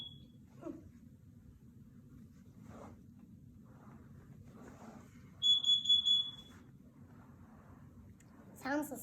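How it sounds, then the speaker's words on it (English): A home carbon monoxide alarm being tested gives a loud, piercing series of about four rapid beeps in the middle, with quieter chirps before and after. A child and an adult talk softly around it. "these perfect carbon monoxide alarms for your home is just perfect for you to buy"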